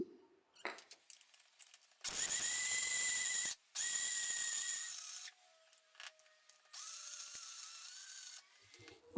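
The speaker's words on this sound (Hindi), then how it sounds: "इसके लिए मैंने ग्राइंडर में चने डाल दिए हैं" Electric grinder grinding roasted chickpeas, poppy seeds, green cardamom, cashews and almonds into powder, a loud high whirring motor in three separate bursts of about one to two seconds each, with short pauses and small clicks between them.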